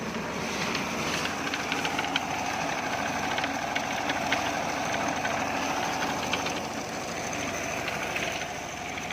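A farm tractor's engine idles in a steady, rumbling drone with a faint rhythmic knock, running alone at a close, constant level throughout.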